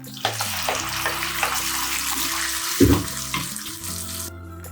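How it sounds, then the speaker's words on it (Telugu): Water pours steadily into gongura paste in a pan of tempering, a continuous splashing rush with a short thud of the vessel near the middle and the flow cutting off at the end. "ఇప్పుడు ఇందులోనే మనం వాటర్ కూడా పోసుకున్నాం"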